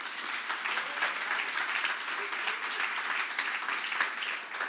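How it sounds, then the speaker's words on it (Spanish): A church congregation applauding together, a dense, even wash of clapping that holds steady for several seconds with no talk over it. "Denle un aplauso al Señor."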